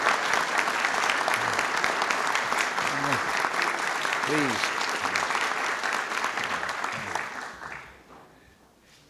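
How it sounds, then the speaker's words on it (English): Sustained audience applause for the president at a gathering of Black college and university officials, dense and even, fading out near the end as someone speaks briefly over it. "I don't deserve that much applause when I'm late."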